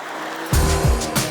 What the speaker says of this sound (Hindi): तब आपको AMG एग्जॉस्ट नोट की बढ़िया आवाज़ सुनाई देती है